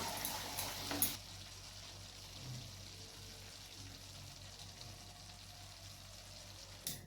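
Chicken sizzles softly in a pan as a ground spice paste is added, a faint, steady frying hiss with a few brief scraping or pouring bursts near the start and end.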